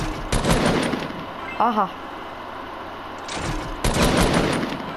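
Bursts of scoped assault rifle fire in the Fortnite video game, aimed at clay pigeon targets on a shooting range, come as two rapid volleys separated by a pause, with someone briefly talking in between.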